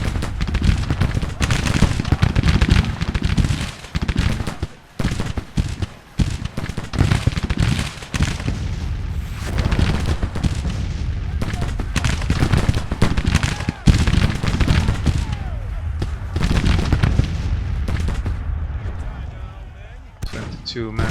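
Cannon fire from a 12-pounder howitzer in a Civil War strategy video game, with repeated booming shots and crackling volleys throughout, heard under continuous talking.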